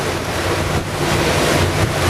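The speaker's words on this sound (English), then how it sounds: "Waves, waves." Ocean waves surge and wash continuously around a boat preparing to anchor for the night, with heavy wind buffeting the microphone throughout.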